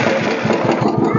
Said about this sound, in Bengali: 2011 এর গাড়ি, স্টার্ট করে অবশ্যই দেখাতে হয়।